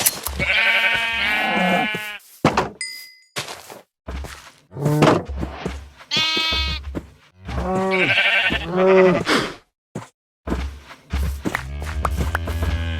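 Minecraft sheep bleating over and over in a farm pen, several close, loud, wavering bleats separated by short gaps and a few soft thunks, with no talking.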